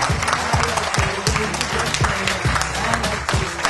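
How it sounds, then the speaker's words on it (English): An audience applauds young Indigenous arts performers, loud and close clapping mixed with crowd noise and rhythmic thumps, sustained without pause. "We have another round of applause for these guys."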